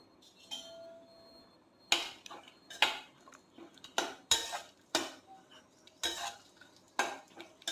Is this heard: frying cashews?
yes